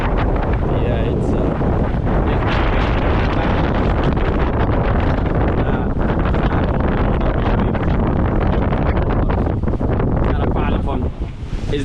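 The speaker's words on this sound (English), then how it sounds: "look, it is windy" Strong wind roaring across the microphone during an island-hopper boat ride toward a sandbar, a loud continuous rush mixed with water and engine noise, with a voice speaking underneath.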